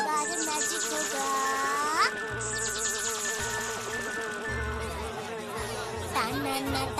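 A cartoon housefly buzzes in high, wavering whines that rise and dip around the listener, joined by brief jingling magic effects and a few low thuds and voices.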